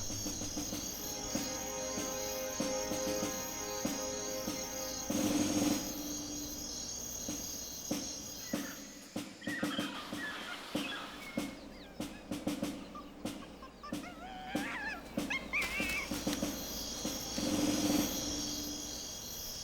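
A dense, steady cicada buzz drones on in a forest in China, swelling and fading, with scattered clicks and rustles.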